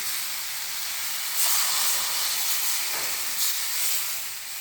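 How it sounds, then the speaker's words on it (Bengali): Water poured over bottle gourd peel in a hot pan bursts into a loud, steady hiss of steam and sizzle, with two stronger surges partway through; no one speaks. "এবারে আমি পরিমাণ মতন জল দিয়ে দিচ্ছি।"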